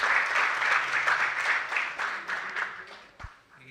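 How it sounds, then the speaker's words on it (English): Steady applause from a conference audience for a panel on feed additives and ingredients at a regional grain conference, filling the room evenly before thinning out and fading near the end. "Hand of applause for the panelists,"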